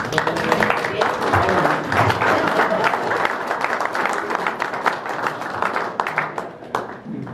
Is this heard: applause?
yes